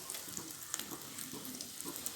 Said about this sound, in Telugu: ఫస్ట్ ఇలాగా కొంచెం పిండిలు వేసుకుంటే ఆయిల్ కాగిపోయింది